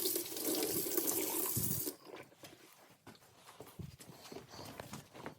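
Water runs from a tap as a part is washed off in a kitchen, a loud rushing stream for about two seconds, then stopping and giving way to scattered soft knocks and handling sounds.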